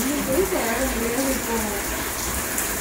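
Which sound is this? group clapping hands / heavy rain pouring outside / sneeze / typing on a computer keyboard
heavy rain pouring outside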